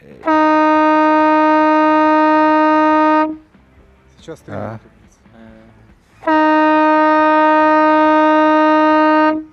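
Two long, loud blasts of a steady, harmonic siren horn signal, each about three seconds, separated by a pause in which someone speaks briefly.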